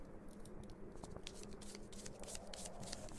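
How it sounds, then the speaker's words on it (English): A deck of cards being shuffled in a horror visual novel game, a steady run of crisp riffling and flicking card sounds lasting throughout, close and fairly quiet. "You shuffle the cards."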